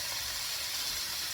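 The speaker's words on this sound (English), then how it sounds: "So I've just put the diced pork in." Diced pork, with a partly frozen piece among it, frying in a pan: a steady, close, unbroken sizzle with a bright hiss and no talking.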